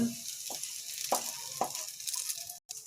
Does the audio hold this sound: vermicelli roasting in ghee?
yes